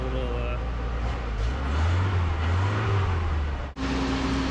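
A freshly rebuilt 1985 Nissan 720 engine idles steadily with a low, even rumble, close by and fairly loud, while a voice talks over it, ending with a sudden clunk and drop.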